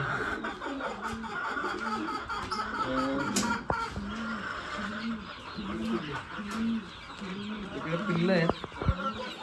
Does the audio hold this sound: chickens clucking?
yes